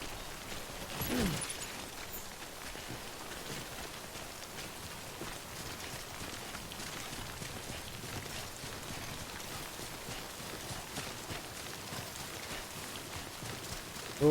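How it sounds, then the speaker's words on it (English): Steady rain falls in the video game Death Stranding, a soft, constant patter of drops hissing evenly across the whole stretch at low level with a brief swell near the start. "Don't stay out in the rain any longer than you have to."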